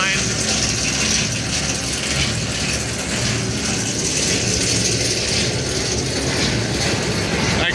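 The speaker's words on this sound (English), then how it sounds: "You can see the main sprocket turning and the jackshaft sprocket." Sprockets and chains on a Davis S40 paddle mixer turn continuously, a loud, close mechanical clatter of gears and chain links grinding steadily with no break, and no voices heard.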